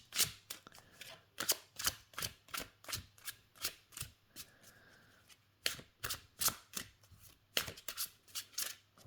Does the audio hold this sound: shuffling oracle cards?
yes